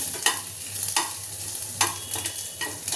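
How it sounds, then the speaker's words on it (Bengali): Chopped ginger and garlic are stirred in a pan, a soft sizzle underneath a few sharp spatula scrapes and knocks spaced about a second apart. "এই যে আদা রসুন কুচি কুচি করে রেখেছিলাম, এটা দিয়ে দিলাম। একটু নাড়াচাড়া করে নিচ্ছি।"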